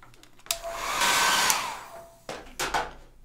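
A hair dryer blows on a watercolor painting of a kiwi in one loud, close burst of about two seconds, rising and falling, followed by a couple of short handling bumps.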